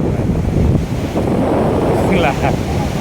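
Sea wind gusts across the shoreline as waves break and wash in, a loud, steady roar of rushing air and surf that holds throughout.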